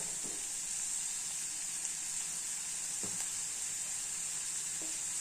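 Onions and asafoetida frying in oil in a pan, a soft, even sizzle hissing steadily in the background with a few faint utensil taps.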